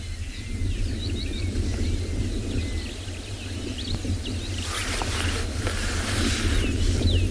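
Birds call and chirp across a quiet morning savanna during a sunrise safari, scattered near and far over a steady low engine-like hum, with a denser burst of calls toward the end.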